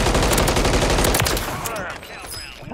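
Pistol gunfire in Call of Duty on Rebirth Island, a dense burst of loud rapid shots filling the first second and a half, then fading into game effects.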